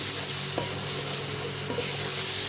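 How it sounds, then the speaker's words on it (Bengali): Spice paste of ground green chillies is sautéed in a pan, a steady close sizzle broken by two soft stirring scrapes. "এবার এটাকে ভালো করে কষবো।"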